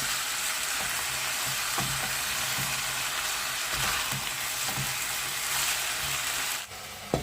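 Potato pieces fry in a pan with a continuous dense sizzle, occasional soft scrapes and taps from stirring, a near and steady hiss that ends with a brief clatter near the finish.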